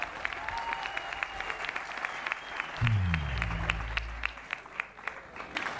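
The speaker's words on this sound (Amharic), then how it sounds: "ሞቅ ያለ ጭብጨባ እንድታመሰግኑልን እንፈልጋለን" Applause from the audience at the Saint Joseph School graduation ceremony, a steady spread of clapping lasting throughout, with a low rumble and some overlapping voice mid-clip.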